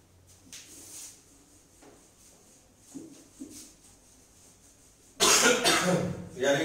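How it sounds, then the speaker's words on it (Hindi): A few scattered light coughs and throat sounds early on, then a loud, harsh burst of coughing close to the microphone near the end. "यार एक तो ये खांसी नहीं जा रही मेरी"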